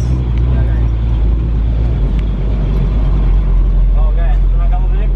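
A Hino 500 truck engine labours up a steep hill with a loud, steady low drone that holds throughout, while voices talk over it.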